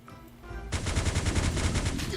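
Rapid automatic gunfire in the survival video game Last Day on Earth bursts in after a brief quiet lead-in, a loud, fast, evenly spaced stream of shots continuing to the end.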